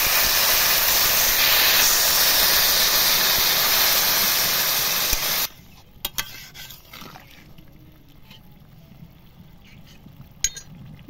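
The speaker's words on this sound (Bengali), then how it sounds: "এবার জল দিয়ে দেব।" Water poured into a pan of sizzling fried spices for an egg and pointed gourd curry bursts into a loud, steady hiss for about five seconds, then drops to a quiet simmer with occasional clinks of utensils.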